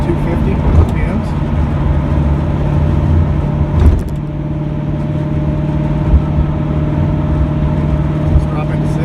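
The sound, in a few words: 1978 Trans Am engine cruising at about 2250 RPM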